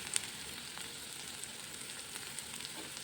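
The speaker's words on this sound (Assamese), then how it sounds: "ইয়াৰ ৰিফাইন অইলত পিঁয়াজ, জলকীয়া যিখিনি আৰু কটা বস্তুখিনি তেলত দি ল'লোঁ" Chopped onion, green chilli and other cut ingredients fry in refined oil with a soft, continuous sizzle that stays even and fairly quiet throughout.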